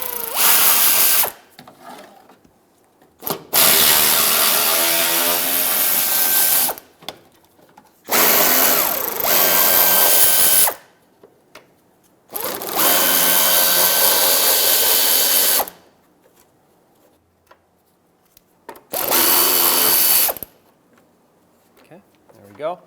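A power drill spins shield bolts out from under a 2012-2017 Toyota Camry, running in four or five loud sustained bursts of a few seconds each, separated by short pauses with occasional clicks and brief talk.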